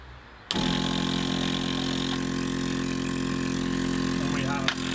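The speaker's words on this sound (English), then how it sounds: "Ground the relay, ground the compressor, and then push the button." An airbag suspension air compressor kicks on abruptly and runs with a loud, steady, buzzing mechanical drone that stays constant for the rest of the clip.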